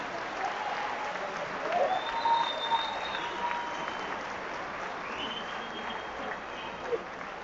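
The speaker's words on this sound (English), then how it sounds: "Give them a big hand." Street crowd at a Ferguson protest gathering applauding, a steady wash of clapping that swells briefly in the middle, heard from within the crowd with faint voices mixed in.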